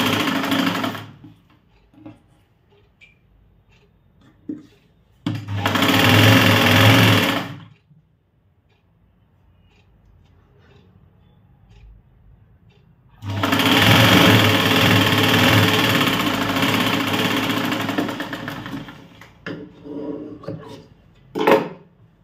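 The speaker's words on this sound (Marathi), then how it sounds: "त्यानंतर खालच्या बाजूला आता आपण टीप मारून घेऊया आणि त्यानंतर पुन्हा दाबटीप द्यायची." Sewing machine stitching a tucked blouse, two runs of rapid rhythmic mechanical stitching, one short and one longer, separated by near-silent pauses with faint handling clicks.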